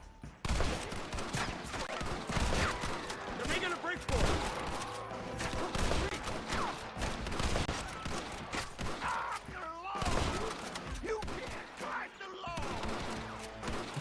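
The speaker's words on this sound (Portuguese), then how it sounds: "Quem que eles estão atirando que eu não tô vendo?" Rapid, dense gunfire crackles nearly nonstop in a Blackwater town shootout in Red Dead Redemption, loud volleys with shots overlapping one another.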